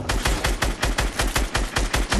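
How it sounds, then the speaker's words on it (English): Rapid automatic gunfire in Fortnite battle royale, loud, close bursts in a steady rhythm of about four shots per second, with no voices over it. "I can hear you shooting."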